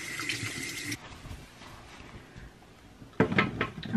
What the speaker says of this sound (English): so I'm gonna quickly wash my hands